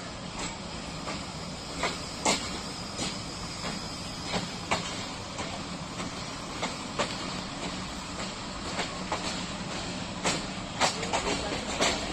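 Millat Express of Pakistan Railways running on the track near Chiliyanwala: a steady rumbling roar with regular clicking rail-joint beats throughout, loud and close from inside the train.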